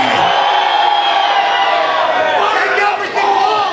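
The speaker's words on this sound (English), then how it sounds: "If you got love for Paul Linn, make some noise in this joint." An arm wrestling crowd roars and cheers continuously, a dense wall of shouting and whooping that stays loud throughout.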